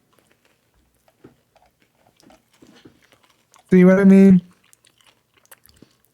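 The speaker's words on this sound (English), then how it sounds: "I'm just eating a Crunch Bar." Quiet, sparse chewing of a Crunch Bar, small irregular crunches close to the microphone, interrupted midway by a brief spoken phrase.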